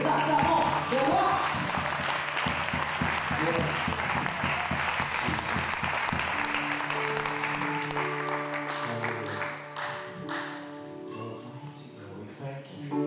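Congregation applauding and cheering during a Sunday church service, a dense broadband wash of clapping mixed with voices and music that stays loud throughout, then thins slightly toward the end as sustained tones come through.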